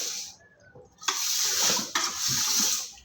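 Tap water gushes and splashes as fish pieces for curry are rinsed in a bowl, a steady hissing flow starting about a second in with a brief break near the two-second mark.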